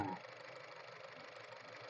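A 2017 Honda Mobilio 1.5 RS with a 1.5-litre i-VTEC engine idles steadily under the open hood, a smooth, even hum with a brief knock at the start and no talking.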